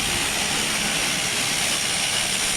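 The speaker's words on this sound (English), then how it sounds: "It's a propeller-driven aircraft." A propeller-driven aircraft at Aurora Municipal Airport makes a loud, steady, close roar of engine and propeller noise that holds throughout without any talking.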